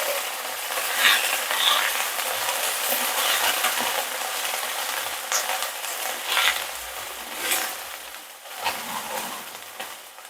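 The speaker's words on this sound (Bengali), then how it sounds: "ভালো করে তেলে নাড়িয়ে চাড়িয়ে পাতাটাকে আমি বেশ কিছুক্ষণ ধরে শোকাবো" Ghetkol leaves and green chilies fry in oil in a wok, a steady loud sizzle broken by repeated scraping and stirring clatter throughout, with no voices.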